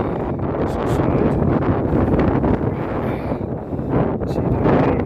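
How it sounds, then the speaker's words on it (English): Strong wind buffets the microphone outdoors beside a chimney restoration job, a loud broadband roar with gusty surges and rumbling peaks that never lets up. "It's very, very windy today"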